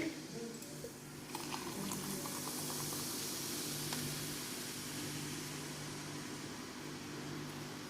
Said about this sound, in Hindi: स्प्राइट डाल देंगे।